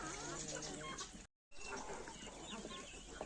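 Chickens cluck and scratch about a Ukrainian farmyard alongside ducks and turkeys, a steady busy texture of clucks and chatter, close and fairly constant, broken by one brief gap of silence.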